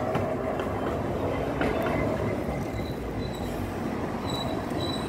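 Street traffic in Saint Petersburg's Vyborgsky district with a tram or train rumbling past, a steady low roar with faint, intermittent high wheel squeals, fairly quiet and without speech.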